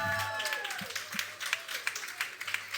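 Applause for Isabelle and William at a French women's show event, a steady crowd patter of clapping with sharper claps standing out near and loud, under a musical tone and some chatter.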